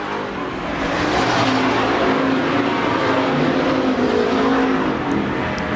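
Pure stock race cars roar steadily around a dirt speedway during a heat race, a loud continuous engine drone with several cars blended together and no breaks.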